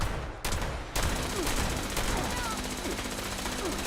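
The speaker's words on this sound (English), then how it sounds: "he's got a Gatling" Rapid, continuous Gatling gun fire in Fallout 76, a dense stream of shots blending into a roar, heard from mid-distance with a voice talking over it.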